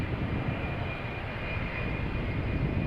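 An Embraer jet of KLM Cityhopper at Amsterdam Schiphol gives a steady, loud engine roar with a thin high whine running throughout, close and unbroken.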